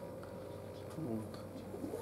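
A pigeon coos softly nearby in a short, low, murmuring burst, with a steady background hum and faint talk around it.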